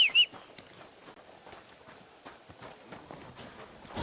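Horse hooves clip-clop at a walking pace on the ground in Kingdom Come Deliverance 2, a steady, fairly soft rhythm of light thuds close by with faint ambience.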